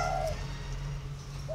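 A young dove gives soft coos, one at the start and a shorter one near the end, heard close and faint over a steady low background hum.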